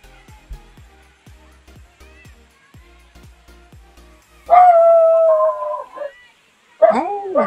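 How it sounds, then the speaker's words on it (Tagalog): Dog barks and howls out in the open during a road trip near a clear-water bathing spot, several short yelping calls and a drawn-out howl, moderately loud and fairly close, with people talking in the background. "Ay, may tumahol pang aso yan."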